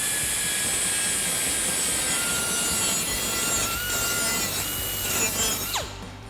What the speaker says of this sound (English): Now we're going to use our grinding wheel to clean up all of the burrs on the outside and the inside.